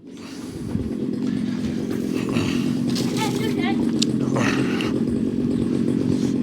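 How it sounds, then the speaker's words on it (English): A small Rebo quad bike engine starts up after a repair and keeps running with a steady, buzzing drone, while people talk over it nearby. "Riley, motorbike's fixed."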